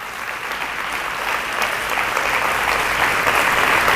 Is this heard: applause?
yes